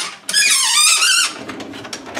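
A five-year-old Kenmore dishwasher with a fault squeaks loudly in one sustained, wavering high squeal lasting about a second, then drops to scattered fainter squeaks and clicks.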